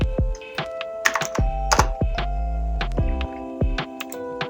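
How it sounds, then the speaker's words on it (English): Computer keyboard typing during a Figma app design session, quick clusters of sharp key clicks with a few heavier thunks, close and fairly loud with no talking. "Let's type it,"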